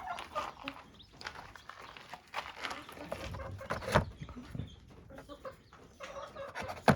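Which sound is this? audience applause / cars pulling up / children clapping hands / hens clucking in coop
hens clucking in coop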